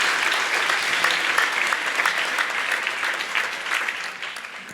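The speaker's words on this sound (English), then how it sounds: "Clap for Jesus." A church congregation claps for Jesus during a sermon, with loud, close, sustained applause that gradually tapers off toward the end.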